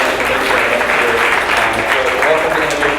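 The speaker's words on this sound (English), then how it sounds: "So let's give the Innovation Depot a round of applause." A live audience at the Innovation Depot startup space in Birmingham, Alabama applauds at a business event, a steady round of clapping lasting several seconds, heard alongside a voice.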